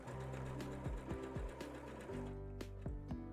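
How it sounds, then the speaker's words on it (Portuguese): Sewing machine stitching along a kimono sleeve seam, running steadily in close, loud bursts with brief pauses and speed changes, its motor hum and rapid needle rhythm alone without talk. "Aí eu vou prosseguindo toda a costura aqui da manga."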